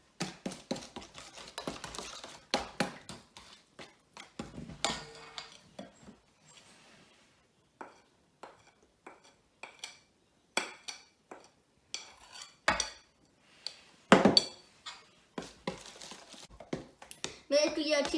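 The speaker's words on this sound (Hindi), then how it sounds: "अब मैं थोड़ा थोड़ा इसमें डालूंगी और अच्छी तरह से मिक्स कर लूंगी।" A spoon mixing coffee crumble cake batter in a bowl gives soft scraping and scattered light clinks against the bowl, quiet and irregular, with someone talking over much of it.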